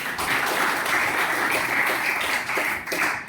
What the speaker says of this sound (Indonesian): mari kita tepuk tangan dulu untuk Albert